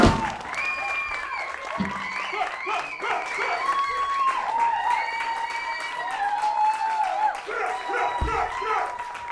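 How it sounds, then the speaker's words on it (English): Concert crowd applauding and cheering after a band's song in Denver, sustained clapping with whoops and shouted voices rising over it throughout. "Keep clapping, you guys. Keep clapping, keep clapping, keep clapping."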